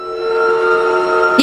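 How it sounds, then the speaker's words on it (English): A train in the Garten of Banban Chapter 4 game blares a loud, sustained horn-like tone alone, a steady layered blast lasting just over a second before a brief thump at the end. "Yeah, I'm pretty sure that's a train."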